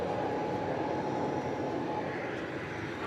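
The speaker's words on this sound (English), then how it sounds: "As we watch Flight 215, Spirit Airlines, headed off to the Valley of the Sun in Phoenix." A Spirit Airlines jet on Flight 215 departs DFW Airport after dark, bound for Phoenix, producing a steady, broad engine roar that holds at an even level throughout without letup.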